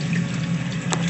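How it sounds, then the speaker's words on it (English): Water pours steadily into an aquarium sump in a custom split sump and refugium system, making a close, continuous rushing trickle over a low hum. "Good amount of water coming in."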